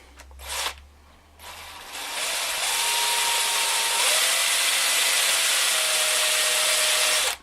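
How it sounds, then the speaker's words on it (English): A power drill boring a pinning hole into a hobby model, with a couple of short clicks and then a steady high-pitched whine building after a brief start and running loud to the end. "let's give it a bit of a drill."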